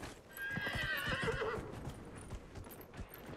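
A horse in Dragon Age: Inquisition neighs loudly over steady, rhythmic clip-clopping hooves, and the hoofbeats continue at a moderate volume after the whinny fades.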